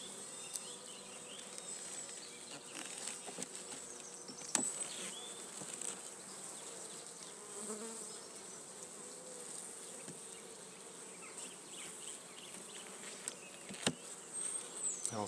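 A swarm of honeybees buzzes in and around a WBC hive, a dense, continuous, low hum with occasional close passes of single bees. No one speaks.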